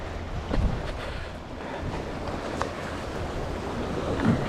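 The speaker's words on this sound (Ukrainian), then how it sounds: "І вітер боковий такий сильний пішов" A strong side wind blows across an open coast in Spain during squid fishing, a steady broadband rush buffeting the microphone with a few louder gusts and faint water sounds beneath.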